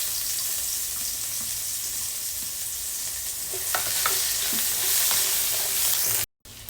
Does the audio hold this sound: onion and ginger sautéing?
yes